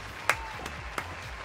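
Hand clapping in the Astro's Playroom video game: three sharp, separate claps spaced a few tenths of a second apart, the first loudest, against a quiet game backdrop.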